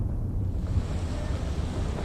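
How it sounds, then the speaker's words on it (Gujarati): Heavy rain pours down in Chandkheda, Ahmedabad, a dense, steady rush of noise outdoors, mixed with wind buffeting the microphone and no voices. "ધોધમાર વરસાદ પડી રહ્યો છે"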